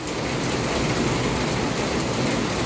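Heavy rain pours in a dense, constant roar of hiss and pattering, loud and unbroken across the short stretch, with no voices.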